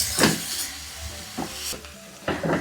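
Food being stir-fried in a little oil, seasoned with salt and flavouring: soft intermittent sizzling bursts with scraping stirs, moderately close, no talk.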